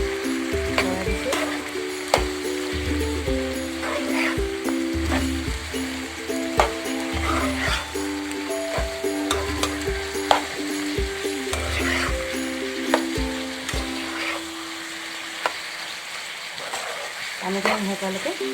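Chicken pieces fry with lai greens in an oily pan, a continuous sizzle broken by frequent scraping stirs and spatula knocks, close and moderately loud with faint tonal hum beneath.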